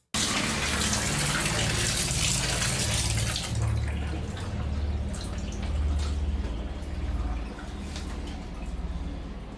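A shower runs with a steady, close rush of falling water. The spray is brighter and more hissing at the start, then settles into a continuous splashing flow for nearly ten seconds, with no voices.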